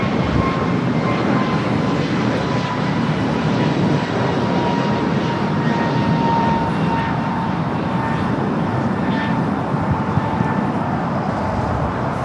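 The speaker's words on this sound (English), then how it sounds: "United Flight 1431 heading to Honolulu, a 23-year-old 757" A 23-year-old United Boeing 757, flight 1431 to Honolulu, takes off at LAX with a loud, steady jet engine roar and a sustained tonal whine, heard alone without talk.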